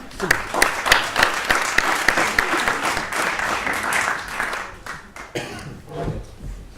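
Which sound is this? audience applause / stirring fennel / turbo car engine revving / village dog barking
audience applause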